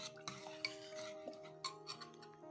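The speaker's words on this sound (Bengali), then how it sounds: "এখন আবার একটু নাড়িয়ে নেব" Chana and moong dal with water being stirred in a pot, giving quiet scraping and light metallic clinks of a spoon against the pot at an uneven rhythm, faint and close.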